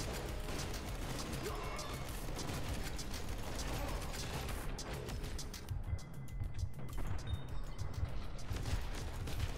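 Gunfire and mechanical combat effects in the video game Ruiner: dense rapid bursts and clattering impacts, continuous and busy throughout, faint in level with no voice over it.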